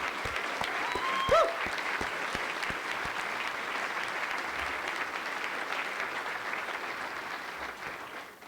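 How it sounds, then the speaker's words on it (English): Audience applause fills a hall at a university spring general assembly, steady clapping from a large crowd sustained throughout without talk. "let's give them a round of applause and thank them for their decades of service"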